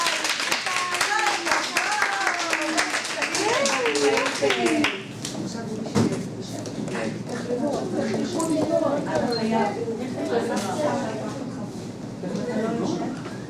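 Children and parents at a children's story-theatre show in a gym clap in a steady burst of applause, with chatter and voices mixed in throughout.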